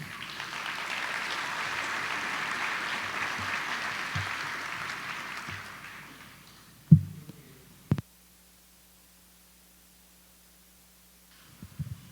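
Applause from a church assembly audience welcoming an auxiliary bishop of Lima, steady clapping for about six seconds that tapers off, followed by a few handling knocks and a faint hum.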